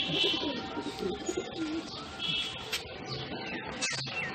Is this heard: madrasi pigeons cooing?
yes